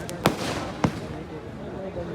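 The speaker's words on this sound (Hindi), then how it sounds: "मोहम्मद आजम की आतिशबाजी इस समय चल रही है" Fireworks at the Dewa fair (mela) in Mohammad Azam's display: two sharp, loud bangs roughly half a second apart, followed by a low crackling rumble over a murmuring crowd.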